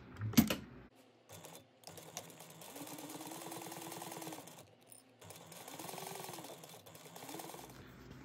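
A sewing machine topstitches lining and top together at one eighth of an inch, humming in several steady runs with brief pauses and a sharp handling tap at the start.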